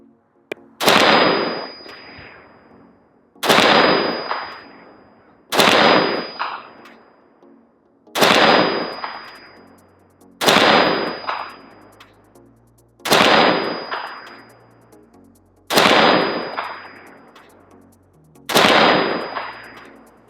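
A Colt Air Force Model 601 clone rifle with a 20-inch barrel fires 5.56 rounds, eight sharp loud shots each followed by a metallic ring from a distant steel target, spaced about two and a half seconds apart.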